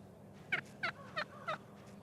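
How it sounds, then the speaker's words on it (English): Eastern wild turkeys call outdoors, four short, evenly spaced, fairly faint calls over quiet background. "These are eastern wild turkeys, the bird the Pilgrim served at the first Thanksgiving."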